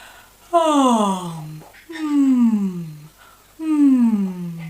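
During a singing lesson, a voice imitates yawning three times, each a long voiced sigh sliding downward in pitch, separated by short breaths.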